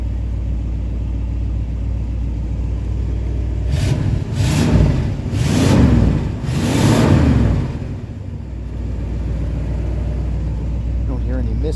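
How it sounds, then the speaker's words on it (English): A 1960 Pontiac Bonneville Convertible engine idles with a steady low rumble, then revs up and down several times in swelling bursts before settling back to idle, running without misses. "Don't hear any misses. The car runs excellent."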